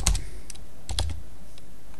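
Typing on a computer keyboard while entering text on a slide, with a few quick clusters of close key clicks and longer pauses between them.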